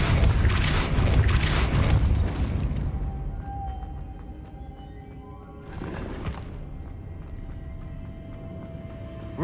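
A Depulso force spell is cast in Hogwarts Legacy on PS5, opening with a loud, rumbling blast that fades, followed by a second, shorter burst.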